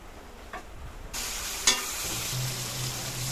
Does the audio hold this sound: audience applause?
no